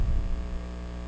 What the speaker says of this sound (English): My computer is definitely humming.